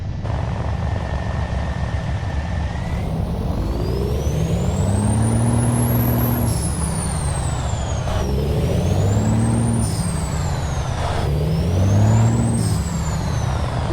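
A truck engine in a driving video game, parking brake set and turbines whistling, gives a steady rumble with a whining tone that repeatedly sweeps up and down in pitch, heard alone without talk.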